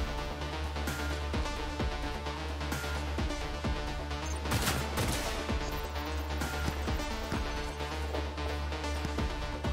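Gunfire in the shooter game Cyberpunk 2077 crackles over a steady game soundtrack, with a louder crashing burst near the middle amid the mixed game noise.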